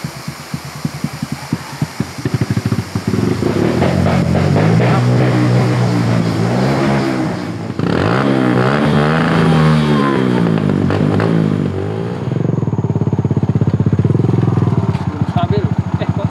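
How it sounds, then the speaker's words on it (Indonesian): Motorcycle engine on a mountain trail after flooding with water, running rough and revving in uneven surges, fairly loud and close, with people talking over it and rain conditions nearby. "Mesin yang tampaknya banjir membuat motor harus dibawa turun agar kembali menyala."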